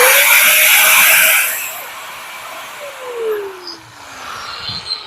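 An industrial cutting machine for wood, bamboo and iron runs loudly with a whining motor tone, then spins down and fades to a quieter, uneven hum with a few knocks.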